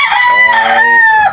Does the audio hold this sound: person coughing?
no